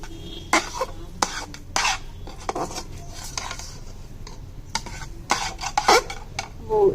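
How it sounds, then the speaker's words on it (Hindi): Almond halwa with sugar and milk being roasted and stirred in a pan, giving repeated scraping and clinking of a spoon against metal at an uneven pace, close and moderately loud, with no talking. "अब चीनी और दूध के साथ इसको थोड़ी देर हमने इसकी भुनाई करनी है।"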